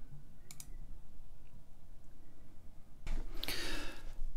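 Computer mouse clicking during a software install on a Windows PC, a couple of faint light clicks early and a louder cluster of clicks toward the end, close and dry over quiet room tone.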